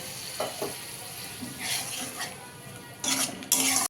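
Spice powders stirred with a splash of water in a frying pan: soft sizzling under scraping and clinking of a utensil against the pan, growing louder in short bursts toward the end, no speech.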